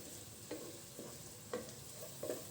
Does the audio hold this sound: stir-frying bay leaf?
yes